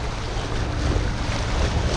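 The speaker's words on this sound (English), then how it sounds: "Here is the harbor." Wind and waves at the ancient harbor of Cenchrea in Greece, a constant loud rush of gusting wind over the microphone with breaking surf underneath, no voices.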